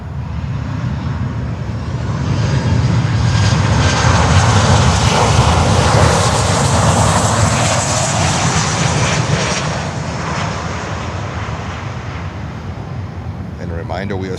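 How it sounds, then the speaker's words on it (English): A Suriname Airways Boeing 737-800 at Miami airport roars loudly with a sustained jet engine rumble and whine, swelling to a peak and then easing slightly as it passes, with wind noise on the microphone. "Suriname Airways, 737-800."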